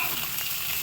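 Shrimp fries in plenty of oil in a pan, a brief, dense and even sizzle with no voices.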